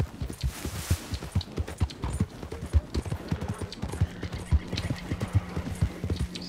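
Horse hooves in Red Dead Redemption 2 clip-clop in a steady, rhythmic walking gait throughout, fairly close, with soft game ambience underneath.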